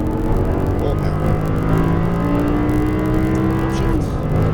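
Audi R8 V10 at full power on a racetrack, a loud, steady engine roar heard from inside the car, with pitch gradually rising before a brief dip near the end.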